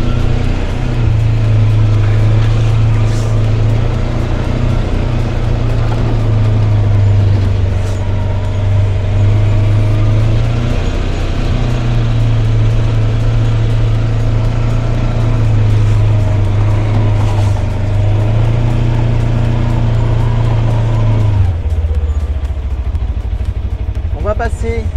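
Four-wheel-drive vehicle crawling down into an off-road crossing area, its engine a steady loud drone with gentle shifts in pitch before easing off near the end, while a person talks over it.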